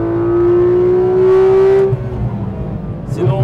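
Porsche GT3 RS engine on the Nürburgring, a loud sustained rising drone holding steady for about two seconds, then falling away into rougher rumble and road noise, with a voice briefly audible near the end.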